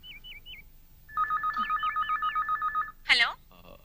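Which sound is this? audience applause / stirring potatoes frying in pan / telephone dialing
telephone dialing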